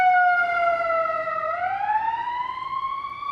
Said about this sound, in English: I've seen 2 police cars, 1 ambulance kind of go by.